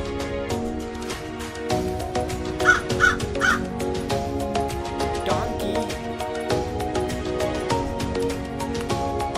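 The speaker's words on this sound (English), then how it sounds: "Crow." Crows cawing in harsh repeated calls over a busy, continuous background with other tones, fairly loud and close, with no speech.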